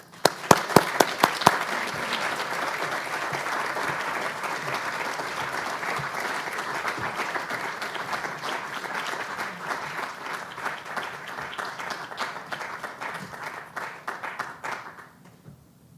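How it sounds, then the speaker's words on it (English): An audience at a university event applauds to welcome a panel on Vietnam, a few sharp early claps swelling into a steady, sustained ovation that holds for about fifteen seconds before tapering off. "let's please welcome our great panel with a round of applause"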